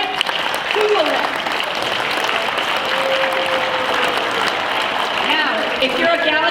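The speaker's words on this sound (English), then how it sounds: "give us an applause" An audience at a talk breaks into steady, full applause that runs throughout, loud and close, with a few faint voices and whoops mixed into the clapping.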